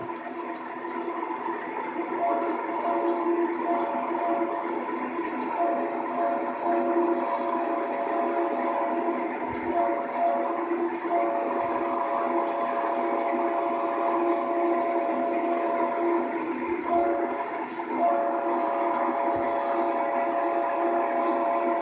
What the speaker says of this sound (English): Got a bit of a horn show going on right here.